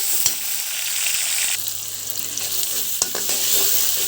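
Garlic and onion fry in a wok with a loud, continuous sizzle, broken by a few sharp scrapes and knocks of a stirring spoon against the metal.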